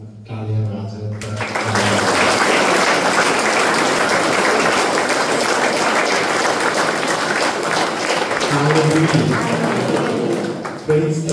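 A church congregation claps together during worship, a dense, steady wash of hands that starts abruptly and carries on for about ten seconds, with voices and some music underneath.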